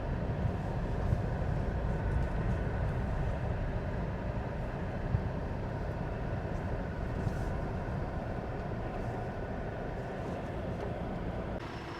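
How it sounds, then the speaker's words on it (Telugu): Steady broadband rumble and hum of ambience at Kakinada Town railway station, recently renovated, continuous and even throughout with no clear voices standing out. "ఈ కాకినాడ టౌన్ రైల్వే స్టేషన్ అండి."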